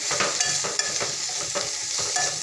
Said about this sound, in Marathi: तर या भाजीला मस्त असं परतून घेते